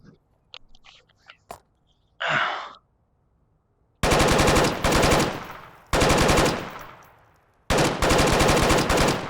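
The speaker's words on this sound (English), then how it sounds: "crack it over to full auto, and you have some very controllable full automatic fire" Full-auto gunfire from a bipod-mounted support weapon in a Marsoc-themed video game: a few faint clicks and a short scrape, then three long, loud, sustained automatic bursts with brief pauses between them.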